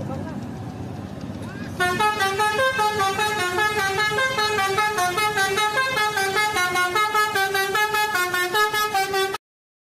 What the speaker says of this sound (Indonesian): kali ini ada bus PO Haryanto teman-teman